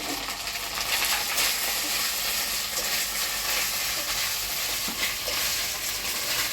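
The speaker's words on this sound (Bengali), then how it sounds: "এখন এই যে ভাজা আলু পটল দিয়ে দিচ্ছি। দিয়ে ভালো করে একটু কষিয়ে নেবো ওটার সাথে।" Fried potato and pointed gourd are stirred into spices in a pan over a wood fire, producing continuous sizzling with scraping stirring strokes, close and moderately loud.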